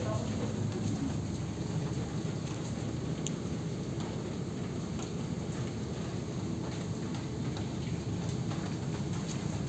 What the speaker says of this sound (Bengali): ঝমঝমে বৃষ্টির সময় বেরোতে হতো, বৃষ্টিটা কমে গেছে।